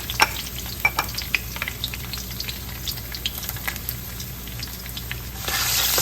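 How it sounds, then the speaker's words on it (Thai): Chili and garlic stir-fried over high heat sizzle steadily, with sharp scraping and tossing clicks near the mic, no voices, and a denser hiss rising toward the end. "ผัดให้พริกกระเทียมหอมหน่อยนะคะ"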